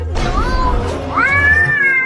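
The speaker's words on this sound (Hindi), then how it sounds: "बचाओ मुझे इस बिल्ली से" A cat in a cartoon comedy meows twice, close and loud: a short first call, then a longer rising wail.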